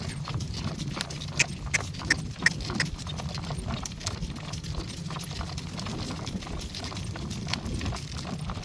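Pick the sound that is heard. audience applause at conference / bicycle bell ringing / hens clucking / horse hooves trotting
horse hooves trotting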